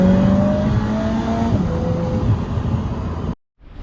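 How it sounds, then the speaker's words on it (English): A fast car drives close by with a loud, steady engine roar and shifting tones as it changes speed, then the sound cuts out abruptly near the end before resuming faintly. "Oh yeah, and fast cars are really cool."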